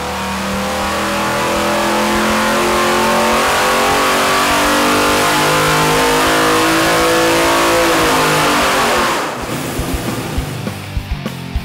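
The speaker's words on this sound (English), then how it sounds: "Got it all strapped on the dyno, ready to go. About to fire it up," A naturally aspirated 502 cubic-inch big-block engine on a dyno roars at sustained high revs, loud and steady for several seconds, then drops sharply to a choppy lumpy idle.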